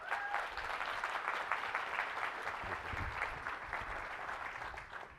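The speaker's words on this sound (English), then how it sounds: "so give him a round of applause" A conference audience at TrustCon 2024 gives steady applause as a guest comes on stage, even dense clapping that lasts about five seconds and fades slightly at the end.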